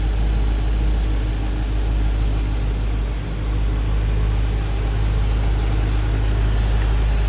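An original, numbers-matching V8 in a restored 1957 Buick Special Riviera Coupe two-door hardtop idles with a smooth, steady, even low hum, close and unbroken.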